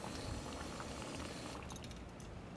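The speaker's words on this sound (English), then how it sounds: "We're boiling." Water at a rolling boil for instant espresso on a lightweight camping setup, a dense bubbling hiss close by, with a few faint clinks near the end.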